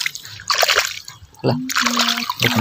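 Water is poured and splashes in bursts near a field of okra plants, with a voice speaking between and over the splashing.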